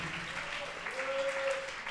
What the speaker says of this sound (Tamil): கைத்தட்டி ஏசப்பாக்கு ஒரு மகிமை செலுத்துங்க பார்க்கலாம்